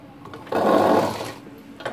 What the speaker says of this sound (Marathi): अशी शिलाई मारायची आहे।